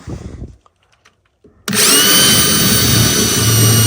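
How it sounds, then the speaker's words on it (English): A loud power drill whirs steadily for a couple of seconds while drilling a Beetle fuel tank, starting abruptly after a few faint clicks and quiet handling noises. "Give it a quick drill."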